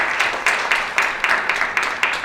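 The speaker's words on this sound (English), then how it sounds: "Christoph Irmscher, let's have a round of applause for him." Audience applause at a lecture event on modern men and feminism, a steady wash of many hands clapping at moderate loudness with a few sharper individual claps, no voices over it.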